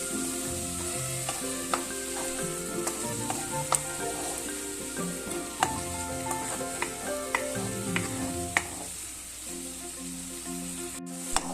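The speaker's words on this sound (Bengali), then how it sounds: "হলুদটা দিয়ে আবার কিছুক্ষণ নাড়বো যাতে হলুদটা ভালো করে মিশে যায়।" Spices with turmeric frying in oil in a pan, sizzling steadily while a utensil stirs and taps against the pan in a loose rhythm, close up and continuous, with no voices.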